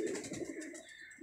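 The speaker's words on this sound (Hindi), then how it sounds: "ये देखो, ये मेरा लकवे वाला कबूतर देखे माशाल्लाह ऊपर बैठा है" A paralysed pet pigeon perched up high gives a brief, soft, throaty coo, close and alone.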